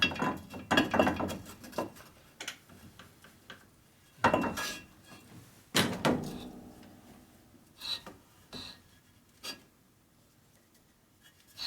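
Coarse hone worked in strokes inside a 1961 Harley-Davidson FL 74ci panhead cylinder: a few loud, rasping, irregular scraping bursts, then quieter intermittent scrapes and short clicks.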